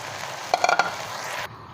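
Chicken Thai fried rice sizzles and is stirred in a pan, with a brief cluster of spatula scrapes midway over steady frying hiss that cuts off near the end.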